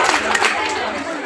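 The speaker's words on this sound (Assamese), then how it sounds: "হাত চাপৰি বজাব লাগে" A school quiz audience breaks into applause, a loud, dense wash of clapping hands close by. A voice briefly speaks over the clapping.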